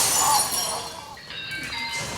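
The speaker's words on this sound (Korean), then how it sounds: "실제로 총을 쏴서 거울이 깨지는 장면을 촬영을 해서 여기다 넣은 거긴 한데" A mirror shot with a real gun and shattering in a video artwork: bright glass shards crash and tinkle loudly at first, then fade into scattered clinks and high ringing fragments, with room noise behind.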